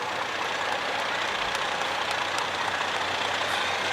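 A fire engine idling at the 2018 St. Patrick's Day Parade in Harrisburg: a steady, loud diesel rumble and hiss that holds constant throughout, with no talking.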